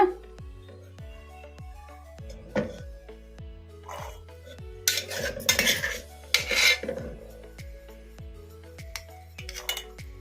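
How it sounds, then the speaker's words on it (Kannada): Loose green peas dropped and scraped into a steel mixer jar, a run of sharp clinking and rattling bursts in the middle over a steady low kitchen hum, close and fairly loud. "ಈಗ ಈ ಬಟಾಣಿಯನ್ನ ಒಂದು ಅರ್ಧ ಮಿಕ್ಸಿ ಜಾರಿಗೆ ಹಾಕೊಂಡ್ಬಿಡೋಣ"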